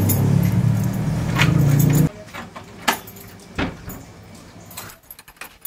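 A bunch of keys jangles and clinks in a few short bursts after a steady low vehicle-like rumble cuts off, the metallic rattles fairly close and sparse against a quiet background.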